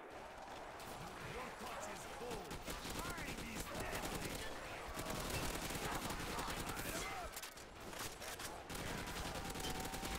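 Dense, continuous gunfire from Call of Duty: World at War Nazi Zombies co-op play, rapid machine-gun bursts and shots layered into a loud, harsh barrage with no pause.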